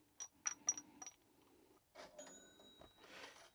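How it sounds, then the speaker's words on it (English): Cash register effect from a Pink Floyd Dark Side of the Moon vinyl record: quick metallic clinks and a bell-like ring, then a jangling mechanical burst, played back at low level. "we have obviously ye old cash register going off, as one can expect from this record"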